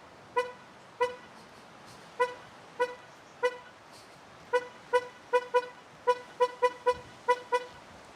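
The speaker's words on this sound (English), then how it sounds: "if the car is on and you press this lock button and the keys inside," 2023 MG ZST car horn giving a series of short, sharp toots in irregular bursts when locked with the key inside while running, fairly close and loud against a quiet background.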